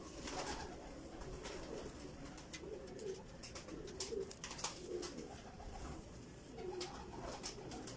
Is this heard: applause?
no